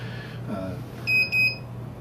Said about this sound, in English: now we're getting the double beep